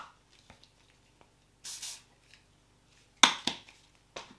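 Joico Ironclad aerosol thermal heat protector sprayed from a can, heard as three short, soft hissing bursts with quiet gaps between them and no talking.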